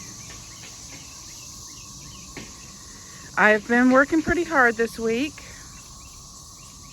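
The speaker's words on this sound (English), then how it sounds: "There's a cicada up there right now." A cicada calls from a square spiral garden as a thin, steady, high-pitched drone that runs through the whole stretch. A person speaks briefly over it midway.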